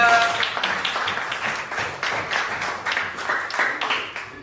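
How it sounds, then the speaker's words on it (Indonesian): A classroom of students claps for a classmate called to the front, a dense run of hand claps that rises in bursts and carries on steadily for several seconds at close range. "Tepuk tangan untuk Raya"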